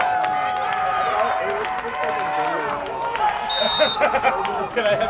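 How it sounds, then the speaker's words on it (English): Spectators at a high school boys' soccer game make a broad crowd noise that swells partway through, with whistles, shouts and clapping blended into the din and a commentator talking over it. "There's a big cheer."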